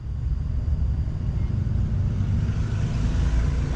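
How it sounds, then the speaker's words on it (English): A Ford Fox Body Mustang engine idles at a drive-through window, a steady, loud low rumble with a throaty drone that never lets up. "She told me I had to turn my car off. I guess the FoxBody's too loud."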